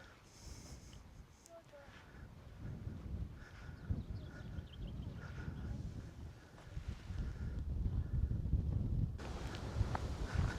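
Wind gusts across open ground on the Isle of Skye in Scotland, buffeting the microphone with low rumbling bursts that build toward the end, with faint voices and scattered rustles beneath.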